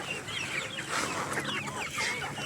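Chickens cluck and chatter continuously close by, a busy overlapping flock sound with no voices.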